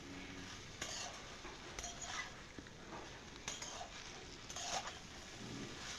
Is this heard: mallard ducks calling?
no